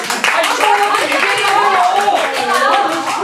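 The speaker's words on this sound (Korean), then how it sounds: "박수 줘." Audience clapping in a theatre during a staged Korean play's heated town-hall debate scene, a steady dense patter of hands over about three seconds with voices talking over it and a cry rising above the applause.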